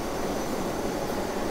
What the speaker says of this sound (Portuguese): Tá fazendo barulho chato da mochila jato